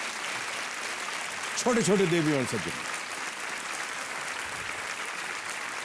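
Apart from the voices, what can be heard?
audience applause in TV quiz show studio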